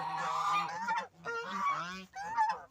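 Loud honking calls from domestic ducks nearby in a village, three harsh bursts in quick succession with short pauses between.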